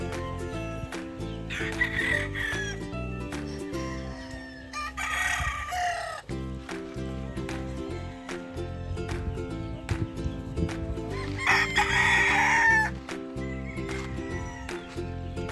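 Gamefowl stags, October-born early birds, crowing in a yard: two clear crows stand out at a moderate distance, one near the start and one later, over steady background noise and droning hum.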